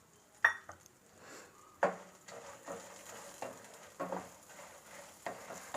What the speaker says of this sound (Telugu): ఫస్ట్ ఈ ఎండుమిరపకాయలు వేపుదాము